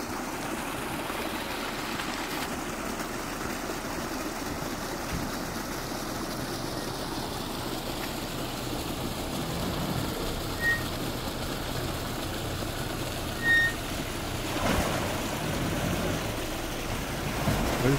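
A game-drive vehicle on a game farm beside Marakele National Park drives through shallow water, a continuous broadband wash and splash under a low engine rumble lasting throughout, with no talk.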